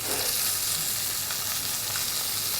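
Artichokes pan-frying in hot fat produce a steady, close, loud sizzle that continues without a break, with no talking over it.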